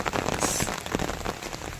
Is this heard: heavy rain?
yes